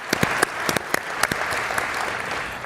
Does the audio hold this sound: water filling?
no